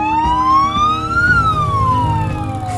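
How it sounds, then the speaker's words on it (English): A police siren wails steadily, its pitch sweeping up and then sliding back down over a low engine rumble, loud and close. "It makes the sirens and the honking."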